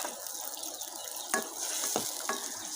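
Dried shrimp stir-fried in a pan over a village cooking fire, a steady close sizzle broken by a few sharp scrapes and clacks of the spatula against the pan.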